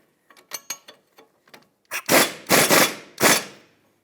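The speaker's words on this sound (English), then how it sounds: "hold the bolt side with the wrench and then push the knuckle in and tighten up the" Wrench work on the 22mm steering knuckle nut and bolt of a 2003-2008 Toyota Matrix: a run of short, sharp metallic clicks and taps, then several louder, longer ratcheting rasps, close by with no talk.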